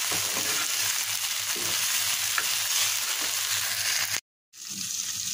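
Onions fry with shrimp in a pan, giving a steady close sizzle and crackle with occasional stirring, then a brief cut to silence before the frying resumes.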